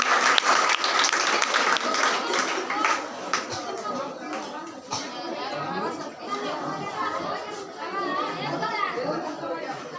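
A church congregation claps loudly in thanks to God after a healing testimony, the dense applause mixed with chatter and children's voices and continuing for about ten seconds.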